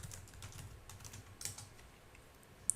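Quiet typing on a computer keyboard, a run of soft, uneven clicks close by with a sharper keystroke near the end and no voices.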